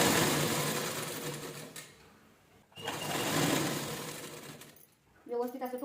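A sewing machine stitches lace folded for a decorative seat cover, running in two steady whirring bursts separated by a brief stop, with a voice speaking at the end.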